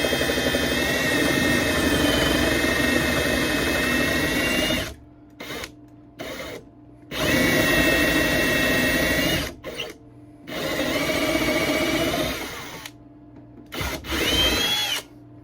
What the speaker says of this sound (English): I need to drill a couple more holes and put in a couple more screws